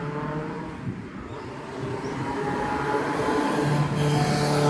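Motorcycles roll past on a quiet village road in Japan, a steady engine drone building slightly louder toward the end with no talking over it.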